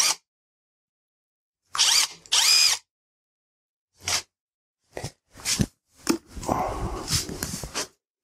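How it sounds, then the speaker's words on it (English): A motorcycle lever bracket being unbolted with a ratchet during front-end teardown: several short bursts of quick ratcheting clicks separated by silence, ending in a longer stretch of rapid turning and clattering, close and alone. "Let's just unbolt the bottom part anyway."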